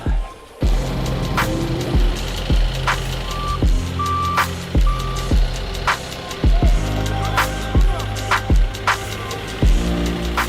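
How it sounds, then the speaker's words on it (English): A forklift sounds a steady series of loud, evenly spaced reversing beeps while a vehicle is unloaded outside a shop, close by over a low engine rumble. "I'm gonna grab the forklift, we'll get it unloaded"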